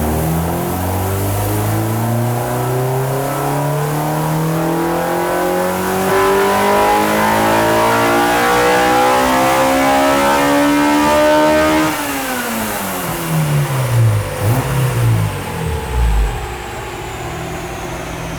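A 200 whp B16 street car screams on a dyno: a loud, sustained engine rev climbs steadily in pitch, then drops sharply as the throttle closes and winds down, with no one talking over it.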